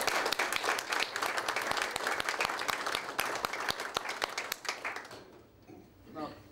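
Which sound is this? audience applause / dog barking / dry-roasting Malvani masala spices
audience applause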